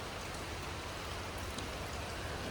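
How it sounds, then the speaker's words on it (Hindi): Heavy rain pours at night in Kharghar, Mumbai, as a steady, dense hiss of drops hitting surfaces around a cab. The downpour stays constant throughout, with no talking. "और बारिश कितनी मस्त हो रही है देखो भाई"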